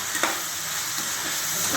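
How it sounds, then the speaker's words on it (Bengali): Capsicum fries with chicken, onion and dried chilli in a pan, giving a close, steady hiss of sizzling oil with a few faint scrapes of stirring. "ক্যাপসিকামটা একটু ভাজা ভাজা হবে"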